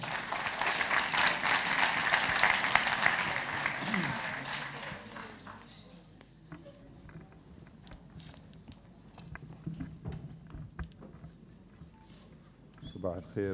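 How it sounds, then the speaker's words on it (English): An official press conference crowd in Rome applauds the arriving UAE ambassador with a dense round of clapping that fades away after several seconds, followed by quieter room sounds, shuffling and scattered movement. "can we give him a big round of applause"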